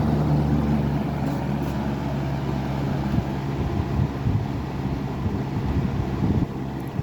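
A 1977 Kmart (Lakewood) model K-223 fan running on medium, a steady whooshing drone with a low hum, continuous and close.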